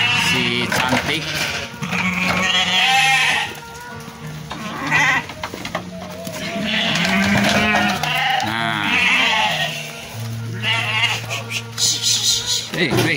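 Weaned breeding sheep bleat repeatedly, loud and close, with several overlapping calls during a livestock delivery, while people talk in the background.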